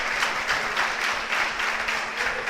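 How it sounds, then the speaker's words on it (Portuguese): A church congregation claps together in steady, rhythmic applause that stays even and moderately loud throughout, with no talking. "Você pode aplaudir o Senhor?"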